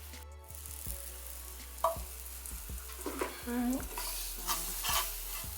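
Oil and seasonings sizzle in a pan while a spoon stirs and scrapes through them during chana cooking, a close, quiet frying hiss under clinks and knocks, with a person talking briefly.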